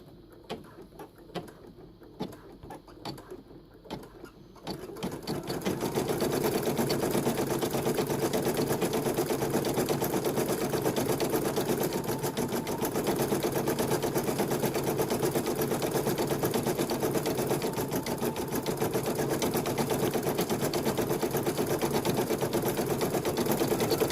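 An embroidery machine stitches a design with a fast, steady mechanical whir and needle clatter. It starts after a few seconds of quieter clicking and then runs loud and even without stopping.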